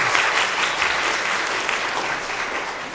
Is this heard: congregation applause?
yes